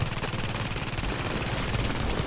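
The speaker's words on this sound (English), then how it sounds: "Here, I'm throwing a turret out. Throwing a turret! Yes, a turret. A turret, yes, it's killing them." Automated turret in a video game firing at enemies, a dense, loud, continuous rapid-fire rattle lasting the whole moment without pause.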